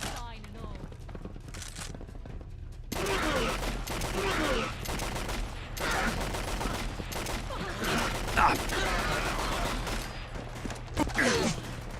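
Gunfire in Fallout London: after a quieter opening, dense rapid shots break out and keep going in bursts with thuds and mechanical clatter, while voices talk through the firing.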